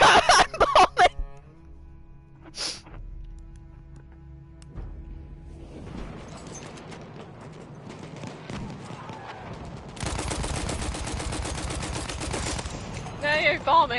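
Bombing and gunfire in the video game Battlefield 1: sharp bursts open the clip, then a low rumble gives way to dense, rolling battle noise. A long, loud sustained blast comes near the end, with some talk between the shots.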